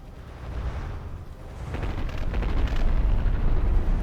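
Heavy low rumbling blast in a naval battleship game, a torpedo striking a battleship with a deep boom that swells and sustains toward the end, loud and alone.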